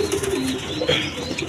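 Pigeons, a quality breeding pair, coo softly in a short, close burst of low throaty calls over faint background noise.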